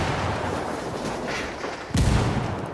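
Frag grenade blast in Ghost Recon Wildlands, a single muffled boom landing near the end of the clip over a steady rumble of background noise.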